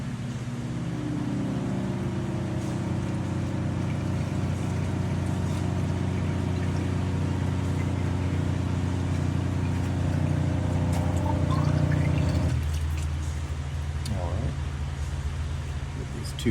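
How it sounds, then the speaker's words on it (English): A chilled alkaline ionized water vending machine at a gym dispensing 16 ounces into cups: a steady mechanical pump hum with running water that drops off sharply near the end, leaving quieter background noise. "first we're going to dispense 16 ounces of water"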